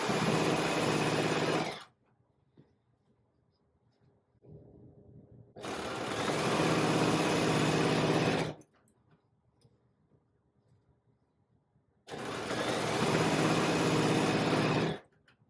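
A sewing machine chain-pieces quilt pieces in three bursts of fast, steady stitching, close and loud, each lasting a few seconds with quiet pauses between.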